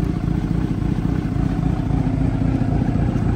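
A modified motorcycle engine rumbles steadily nearby, a low, throaty idle with a constant rough pulse and no talking over it.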